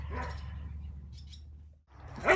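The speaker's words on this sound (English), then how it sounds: "Those dogs are so playful." Two playful dogs let out short barks and whimpers nearby, a brief yip cluster, a pause, then a louder bark burst over low background rumble.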